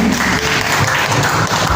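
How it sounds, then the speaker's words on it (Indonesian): Applause from an audience of teachers at an Indonesian school training session, a dense steady patter of clapping hands lasting the whole moment, with no voices over it. "tepuk tangan deh biar paham"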